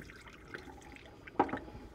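Plant-based dye liquid set with vinegar poured out of a container, a faint soft trickle with a brief louder splash near the end, heard close and alone.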